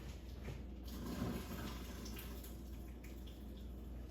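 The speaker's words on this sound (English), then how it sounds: "Now I'm going to go ahead and drain the rest of the water from the potatoes" Hot water is drained from boiled potatoes, a faint steady pouring and splashing over a low hum, with no voices.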